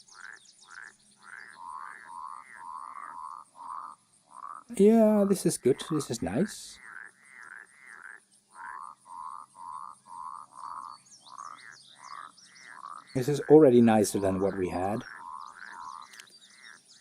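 Frog croaks from game audio sources in Unity, repeated short bouncy croaks in quick runs with pauses between, fairly clear, with a person speaking in two bursts over them.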